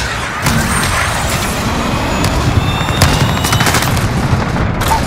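A missile strike explosion in Call of Duty Modern Warfare Ground War, heard as a loud, dense rumbling blast amid crackling gunfire and vehicle noise, sustained at close range with sharp bursts throughout.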